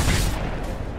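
A gunshot blast from the Mad Max video game hits hard and loud, then its rumbling report tails off over about a second.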